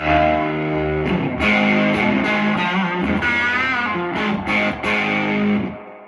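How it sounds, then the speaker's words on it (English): A guitar plays through a vintage Music Man amp set with volume and master on 3 and in need of a service, giving loud, fuzzy breakup distortion on ringing chords and notes that sustain and decay across several strums. "You can get lots of breakup out of this amp."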